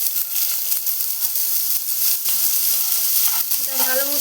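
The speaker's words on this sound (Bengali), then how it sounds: "এর মধ্যে আমি সামান্য কালো জিরে ফোড়ন দিয়ে দিচ্ছি। কুচনো পেঁয়াজ আর লঙ্কাটা দিয়ে দেবো।" Chopped onion and green chilies hitting hot mustard oil with nigella seeds in a pan, a bright continuous sizzle and hiss, steady and close, with a faint tonal sound near the end.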